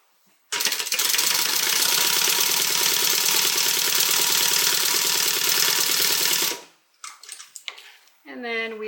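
A sewing machine stitches a zipper onto a bag pocket in one steady, continuous run of rapid mechanical whirring lasting about six seconds, then stops, leaving a few faint handling sounds.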